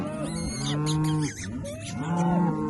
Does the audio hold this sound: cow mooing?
yes